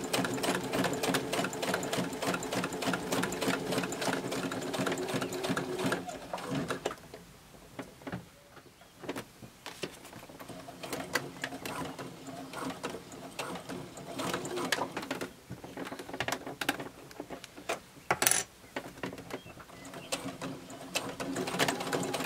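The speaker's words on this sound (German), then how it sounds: "Dann schließt man hier automatisch die Wendeöffnung und näht hier wieder runter." A sewing machine stitches a fabric wallet, closing the turning gap. It runs in a fast, steady ticking burst, then slows into quieter stop-start stitching with short pauses, close up.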